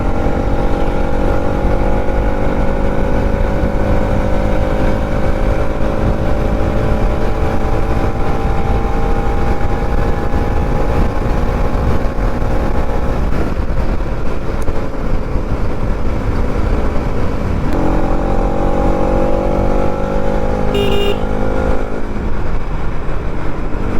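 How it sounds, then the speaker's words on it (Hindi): A motorcycle, an NS200, rides at speed along a highway, its engine droning loud and constant with wind rush and shifting revs as gears change, joined briefly by passing traffic. "आज हम लोग अपनी बाइक को खींचेंगे और इन्जॉय करो"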